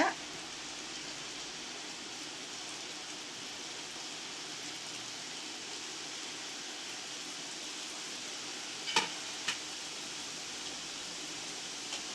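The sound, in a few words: wheat snack batch frying in oil on low flame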